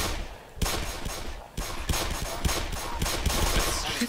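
Rapid bursts of gunfire from the video game Black Mesa, with dense repeated shots and loud automatic fire carrying steadily through most of the stretch after a quieter opening.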